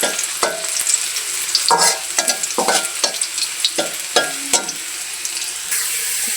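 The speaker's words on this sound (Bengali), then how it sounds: "পেঁয়াজটা আগে ভাজিয়ে নিই" Onions frying in oil in a pan with cumin and five-spice, a steady bright sizzle broken by repeated scraping and stirring strokes of a spatula, close and fairly loud.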